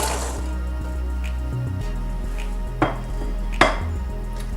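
Cranberries are rinsed under running water, giving a steady hiss of flow in a kitchen with a couple of soft knocks and drips breaking through.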